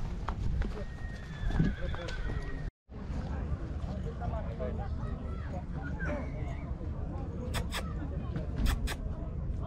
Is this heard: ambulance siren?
no